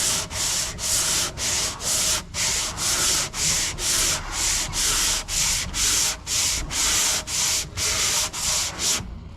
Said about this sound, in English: I did go ahead and use the longboard for the first round of sanding